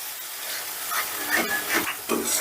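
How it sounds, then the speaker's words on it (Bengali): Ginger, garlic and green chili paste frying in a pan for a rohu fish-tail kalia, with a steady sizzling hiss and repeated scraping strokes of a spatula stirring it, close up and without talk. "এবারে এই মশলাটাকেও বেশ ভালো করে কষে নেব যতক্ষণ না আদা রসুনের কাঁচা গন্ধটা যাচ্ছে ততক্ষণ কষে নিতে হবে"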